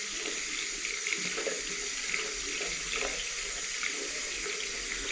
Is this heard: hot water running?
yes